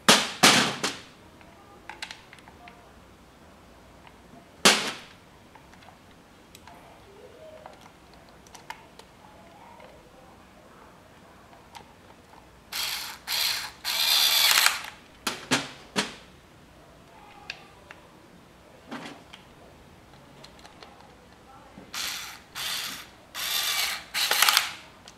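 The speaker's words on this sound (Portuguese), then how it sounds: "Eu vou colocar aqui a parafusadeira no torque mínimo e bora apertar esses parafusinhos aqui." A cordless power screwdriver set to minimum torque drives small screws into the plastic air filter housing of a Yamaha XV 250 Virago motorcycle, giving short, loud bursts of ratcheting whir and clicking separated by quiet pauses.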